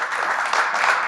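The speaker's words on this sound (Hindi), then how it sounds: "सब लोग तालियों से जोरदार स्वागत" Crowd at a Holi celebration clapping to welcome a dance performer, a continuous wash of applause from many hands, steady and fairly loud.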